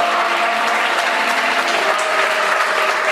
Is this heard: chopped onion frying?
no